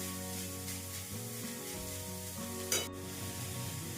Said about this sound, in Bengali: সবজিটা যতক্ষণ না সেদ্ধ হচ্ছে হালকা নেড়ে নিলাম